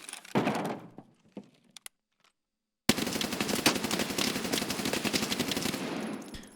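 Mk47 Mutant rifle in a video game, firing one short burst, then falling silent, then rattling off a long sustained full-auto stream of rapid, loud, close shots.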